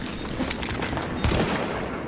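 Rapid gunfire in Tom Clancy's The Division, with a burst of close, sharp shots cracking in quick succession over a dense layer of battle noise.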